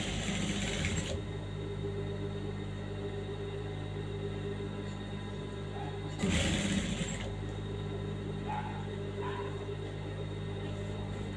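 A sewing machine stitching the back neck of a saree blouse runs with a steady, continuous mechanical hum, and two short louder bursts rise above it.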